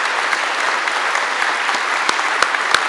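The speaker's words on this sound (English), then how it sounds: "we need to also give his wife, Linda, a round of applause" An audience gives a sustained round of applause for Linda, the wife of a newly installed North Carolina poet laureate, steady and full throughout with a few sharper claps standing out near the end.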